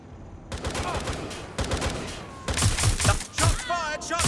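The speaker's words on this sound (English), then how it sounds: "Shots fired! Shots fired!" Gunfire in Watch Dogs Legion, bursts of rapid shots and sharp cracks coming in clusters with short gaps, with voices shouting over the firing.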